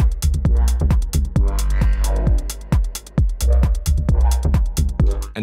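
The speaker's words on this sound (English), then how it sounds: "The second one is long gate bass line, and it's going to sound like this." Long-gated analog bassline from a Minilogue XD synth in a techno context, sustained low notes under a steady loud beat of punchy kicks and ticking hi-hats, with no speech.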